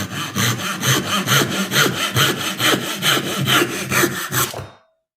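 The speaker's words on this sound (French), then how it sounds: "on va aller à la scie onglet, puis on coupe ça en deux" A miter saw cuts a walnut board in half for an end-grain cutting board, with loud, close, rhythmic back-and-forth rasping strokes for about four and a half seconds before stopping abruptly, and no talking.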